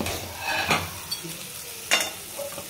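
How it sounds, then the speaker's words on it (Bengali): Chopped tomatoes go into a pan of frying spice paste, a close, brisk sizzle with stirring scrapes and a couple of louder hissing bursts. "এবার আমরা টমেটো কুচিগুলো দিয়ে দেবো।"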